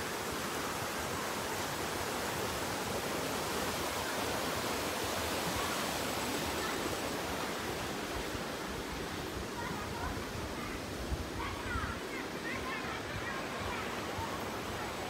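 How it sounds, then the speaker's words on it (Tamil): A waterfall rushes at Karpagam brook near a full lake in Tamil Nadu, a loud, dense, unbroken roar close by that fills the whole stretch. "பக்கத்தில் பாருங்கள் அருவி பாருங்கள் சூப்பராக போயிட்டுருக்குது"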